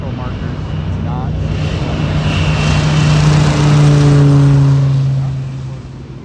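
A light tailwheel airplane's engine drones steadily at full power during its takeoff roll down the runway, loud and close, swelling toward the middle and easing slightly near the end.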